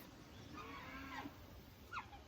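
Cows mooing on a farm, two short calls some distance off over a steady outdoor background, the second slightly louder.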